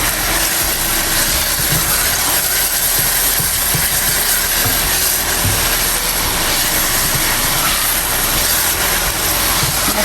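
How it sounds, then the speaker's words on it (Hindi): Dal roasting in a pan on the stove gives a steady, close hiss of sizzling that holds evenly from start to finish, with no talking. "मेरी तकरीबन 2 मिनट हो गए मुझे दाल को भूनते हुए।"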